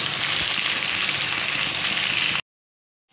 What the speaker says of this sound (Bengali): ধানটা একটু ভালো ভাজা ভাজা হয়ে গেল